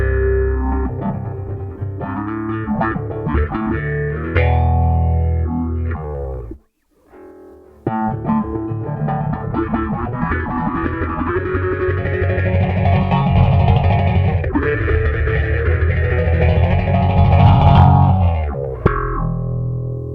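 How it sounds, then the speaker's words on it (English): A bass guitar played through a Pigtronics envelope phaser pedal gives growling, vowel-like sweeping notes in a continuous riff, with a short gap partway through, loud and close without talk. "the Pigtronics envelope phaser is very similar, except it adds a phase"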